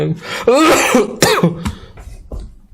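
Several harsh, loud coughs up close, a rough hacking burst followed by a couple of weaker ones fading out.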